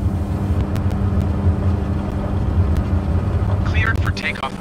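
A Cessna 208 Caravan turboprop runs up for takeoff at Phnom Penh airport, its engine drone steady, loud and close throughout, with a brief radio voice chirping faintly near the end.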